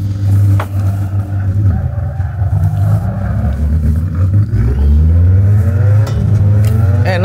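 A car engine in a driving simulator game drones loud and close, a steady low rumble that rises and falls as it revs up and shifts through gears, with faint talk in the background.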